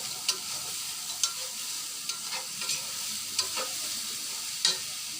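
Date jaggery and coconut stirred in a pan over medium heat: a continuous soft sizzle broken by regular scraping strokes of the spoon, close and clear with no talking.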